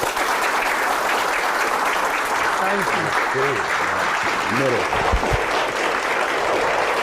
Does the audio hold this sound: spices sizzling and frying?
no